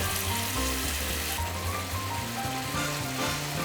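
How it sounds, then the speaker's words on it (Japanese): Tomato meat sauce seasoned with sake, soy sauce and mirin simmers and sizzles in a pan, a steady close bubbling hiss with no one talking. "この状態でトマトがソース状になるまで5分ほど煮詰めていく"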